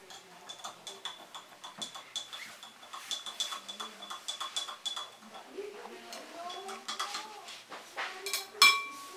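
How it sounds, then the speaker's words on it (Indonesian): A spoonful of salt going into a second glass of water during a school buoyancy demonstration with eggs: close, rapid clinks and tinkling scrapes of a spoon against glass repeat throughout, with a few louder knocks near the end. "Kemudian kita masukkan garam 1 sendok ke gelas yang kedua."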